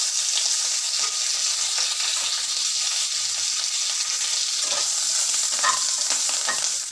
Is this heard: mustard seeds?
yes